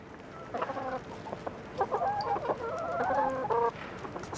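A backyard homestead flock of about eighteen chickens clucks and calls nearby in short, overlapping bursts against a quiet outdoor background.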